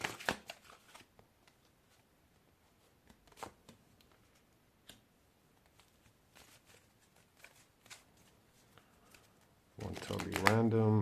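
Playing cards handled and shuffled, scattered soft clicks and flicks over several seconds, ending in a quick riffling burst, close and quiet.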